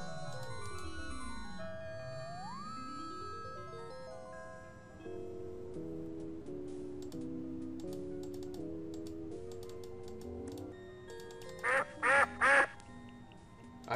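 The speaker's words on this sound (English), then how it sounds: "I just heard a duck." Game music with gliding synth tones and a bouncing bass line plays in Sam & Max Hit the Road, ending in three quick bright duck quacks near the close.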